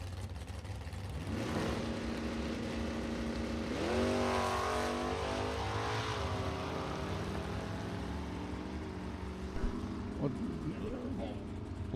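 Drag race cars, a Camaro and a Mopar, rev and launch at a drag strip, engines roaring up loud with rising pitch and holding a sustained drone under an announcer's voice.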